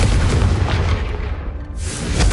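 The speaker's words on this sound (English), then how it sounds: "Have a go at those candelabras. Both have their uses, but I think you'll find that a Confringo cast travels a bit farther" A Confringo fire spell blasts candelabras in the Hogwarts Legacy video game, a single loud booming burst with a roaring fiery rush that briefly dips and swells again, heard alone and up close.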